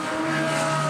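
The number 78 Barwell Lamborghini GT race car at Spa during night practice for the 24 Hours of Spa 2018: a brief, loud, steady engine howl as the car runs close by.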